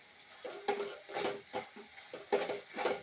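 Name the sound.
stirring and roasting spice masala in oil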